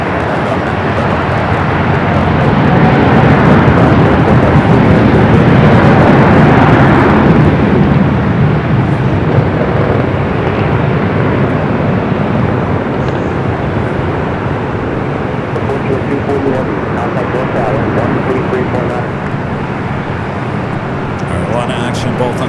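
An airliner arrives on the south side runways at LAX, a loud, continuous roar of jet engines and rushing air that swells early and then holds steady.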